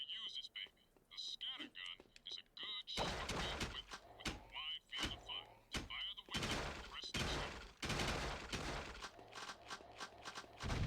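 Gunfire rings out on the gun course in Jak 2, with sharp repeated shots and rapid bursts in irregular clusters, some close together, with short quieter gaps between them.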